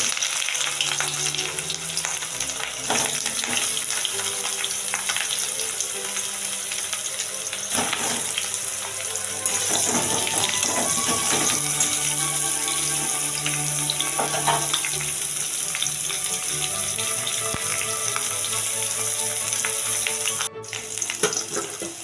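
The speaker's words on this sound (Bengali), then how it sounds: "কপিগুলো লাল লাল করে ভেজে নিয়েছি" Cauliflower, potato and soybean pieces fry in mustard oil in a wok, giving a continuous loud, dense sizzle and crackle up close, with occasional stirring clatter.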